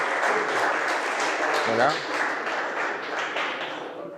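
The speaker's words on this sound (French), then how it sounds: "que je vous demande d'applaudir" A seminar audience in Brussels claps steadily for a guest speaker, a loud, even wash of applause lasting throughout and easing slightly at the end, with a brief spoken word from a voice partway through.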